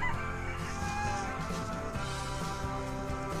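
A flock of hens clucks and murmurs continuously in a chicken coop at evening as they settle to roost, with a rooster's crow rising briefly over the close, dense chatter.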